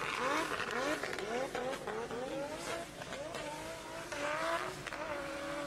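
Drift car spinning a full 360 at a drift competition, tires squealing loudly in long wavering shrieks over a droning engine, with crowd and commentary noise mixed underneath.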